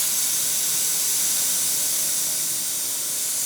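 Compressed air blasting steadily from a blowgun-style air spray gun in a shop setting, a loud continuous broadband hiss that holds unbroken for the whole stretch.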